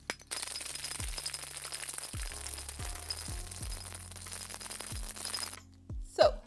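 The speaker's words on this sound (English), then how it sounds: "We're gonna throw some ice in here and give it a quick shake." Ice shaken in a cocktail shaker while making a blue creamsicle cocktail: a continuous rattling, clinking wash of ice with a few heavier knocks, stopping abruptly before a final clink.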